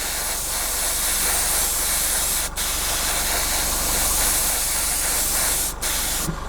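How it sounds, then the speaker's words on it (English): A continuous hiss of spray paint from an aerosol can on a 1/48 scale Spitfire model, steady and close, briefly cut off twice before resuming. "And then we can put some quick spray on again."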